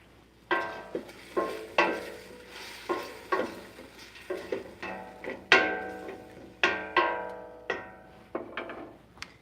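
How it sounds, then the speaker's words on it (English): Beef browning in a pan as it is stirred, with a series of sharp metallic scrapes and clanks from a spoon against the pan over a soft sizzle, irregular strokes, close up and with no voices. "to give that browning meat a quick stir."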